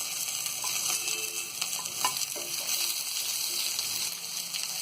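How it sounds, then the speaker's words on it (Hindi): Capsicum with softened carrot frying on a tawa for tawa pulao, a loud, steady sizzle with repeated stirring scrapes and light clinks close by. "तो यहाँ शिमला मिर्च को भी हमने हल्का सा फ्राई कर लिया है।"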